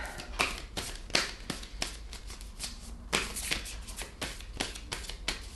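Tarot cards are shuffled by hand in a fast run of crisp riffling bursts and slaps, close up and fairly soft, with no talking over them.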